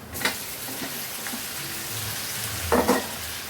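Chopped tomatoes sauté with onions in a pan for a sardine fish curry, giving a steady close sizzle with a few soft stirring scrapes and a louder pair of spoon strokes near the end.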